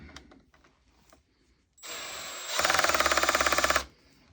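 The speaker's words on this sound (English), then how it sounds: "we'll drive this Milwaukee screw in a little bit further" A 12V cordless multi-chuck driver sinks a Milwaukee screw into wood: a short motor whir, then a louder buzzing ratchet of rapid clutch clicks for about a second, close and alone.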